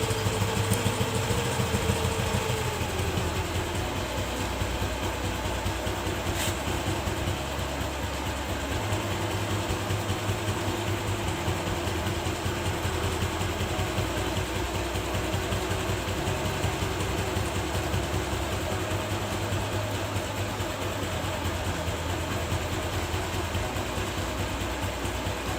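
A motorcycle or scooter engine idles steadily with a fine, even putter throughout while its carburetor air-fuel mixture screw is adjusted, the pitch dropping slightly early on before settling into a constant rhythm.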